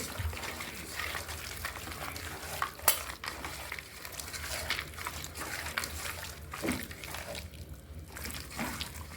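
Chicken pakoda batter being mixed by hand in a bowl, a wet, uneven squelching and stirring texture with occasional light clinks, close and fairly quiet.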